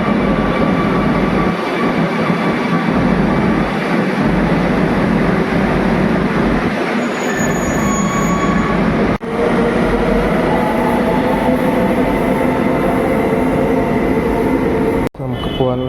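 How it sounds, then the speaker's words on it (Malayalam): A metro train arrives at a station, its loud sustained rumble and rolling wheel noise filling the platform, then shifting into a higher steady whine with squealing tones as it slows, ending abruptly. "ഒച്ച കേൾക്കുന്നുണ്ട് ഗൈസ്. മെട്രോ വന്നുണ്ട്."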